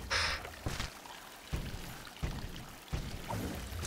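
Water flows upside down in the video game Salt and Sanctuary, heard as soft splashing, pouring and trickling pulses repeating every second or so over a low background rumble.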